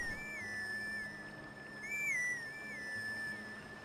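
A clear, high whistle plays a short wavering tune to call the horse Epona in The Legend of Zelda: Twilight Princess, repeated with a brief pause, fairly loud over a quiet background.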